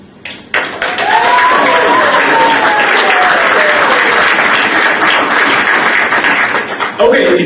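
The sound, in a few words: audience applause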